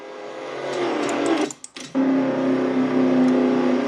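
A race car's engine in a racing sim cuts out with a brief sputter, then catches again and settles into a steady, loud droning hum close by.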